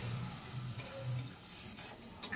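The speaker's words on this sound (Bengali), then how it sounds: "এরপর মশলাটাকে কষিয়ে নেব 2 থেকে 3 মিনিট" Masala of turmeric and chilli powder with slit green chillies and a splash of water cooking down in a pan for bhindi, a soft steady sizzle with faint stirring scrapes close by.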